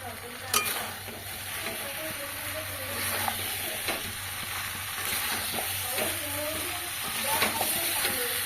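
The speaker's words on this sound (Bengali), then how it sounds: "এবার পেঁপে আলুগুলো দিয়ে আর একটু কষিয়ে নেবো" Papaya and potatoes sautéing in a pan, a steady close sizzle with repeated scraping stirs throughout, no voices.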